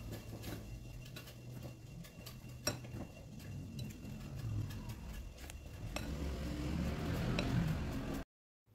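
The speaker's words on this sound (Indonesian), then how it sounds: "Lanjut kemudian kita aduk-aduk hingga tercampur dengan merata." A tapioca flour mixture with seasoning powder being stirred in a bowl, giving quiet, irregular ticks and light clinks of a utensil against the bowl over a soft background hum, growing busier toward the end.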